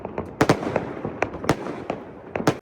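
New Year countdown fireworks over Istanbul's old town: irregular sharp bangs and crackling bursts, some close and loud, others fainter, going off at scattered moments with no voices.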